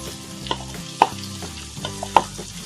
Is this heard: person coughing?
no